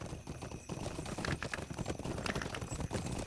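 Horse hooves clip-clop in a video game, a steady rhythmic trot of clattering steps heard alone and fairly close throughout.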